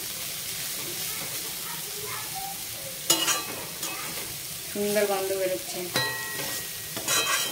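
Banana flower frying in a pan with cardamom, stirred with a spatula: a steady sizzle with scraping and clinking strokes that grow busier toward the end, while a voice speaks briefly over it.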